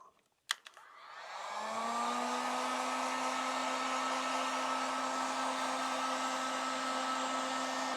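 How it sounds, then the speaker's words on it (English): A heat gun switches on after a couple of clicks and blows a steady, loud stream of hot air onto the stickers of a 2014 KX250F motorcycle, with a constant whine and rush of air. "we're going to hit it with the heat gun."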